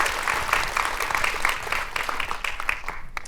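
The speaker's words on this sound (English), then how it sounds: "Another round of applause" An audience applauds steadily for a few seconds, the clapping dense at first and thinning slightly toward the end.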